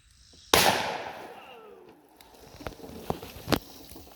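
A single sharp, loud gunshot rings out from a .327 Federal Magnum revolver fired at water jugs outdoors, with a decaying tail followed by a few smaller scattered pops and splashes.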